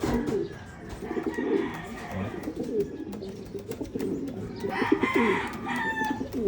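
Pigeons in a loft coo repeatedly in soft, rolling bursts, several birds overlapping at close range with brief fluttering and rustling between calls.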